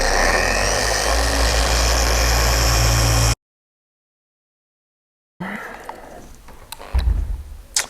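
A machine polisher works car paintwork on an L200 pickup with a loud, steady whirring drone. It cuts out to a couple of seconds of silence, then returns more quietly with a few knocks and handling sounds.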